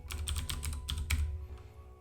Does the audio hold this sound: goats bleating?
no